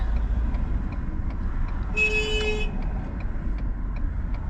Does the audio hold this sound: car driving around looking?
yes